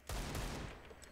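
Rapid burst of Desert Eagle pistol shots in a video game, loud and close, sharp cracks blurring together into a dense fusillade over roughly a second.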